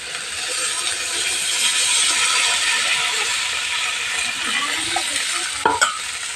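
Duck egg curry is stirred in a pan after water goes in, giving a continuous close sizzle and scrape with a few clinks near the end and no talking.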